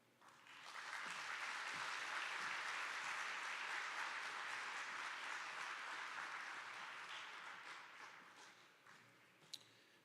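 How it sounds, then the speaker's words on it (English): Audience applause at a fire department Salute to Service ceremony honoring recipients and promotees, a broad steady wash of clapping that swells quickly, holds for several seconds, then slowly thins out. "If we can give one more round of applause for all our recipients"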